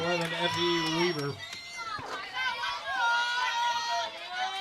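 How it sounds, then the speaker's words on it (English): An excited home crowd at a high school softball regional quarterfinal playoff game at the Ship, heard as lively cheering and chatter with raised voices and whoops, moderately distant. "The crowd can taste it. They're getting excited."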